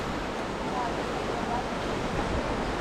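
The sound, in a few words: fast-flowing river swollen after heavy rain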